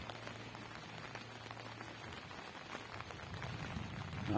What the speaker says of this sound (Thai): ก็ยังมีฝนตกแต่เบาๆนะครับ